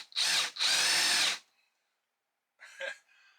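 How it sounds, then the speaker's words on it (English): A drill or similar power tool in a home addition workshop runs in two loud bursts, stops, then gives a shorter, quieter whir. "As soon as I turn on the first power tool"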